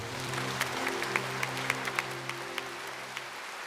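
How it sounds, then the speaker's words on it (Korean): A congregation applauds during a Sunday church service, a soft, fairly distant wash of clapping with scattered crisper claps popping out above it. "하나님께 모든 영광의 박수 올려드리겠습니다"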